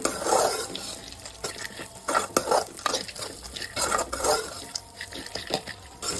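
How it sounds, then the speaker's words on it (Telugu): Mixed dry nuts roast in ghee over medium flame, stirred briskly with a spoon that scrapes and clinks against the pan over a soft sizzle, up close with no speech. "మీడియం ఫ్లేమ్లో పెట్టుకొని ఇలా నేతిలో బాగా రోస్ట్ చేయండి"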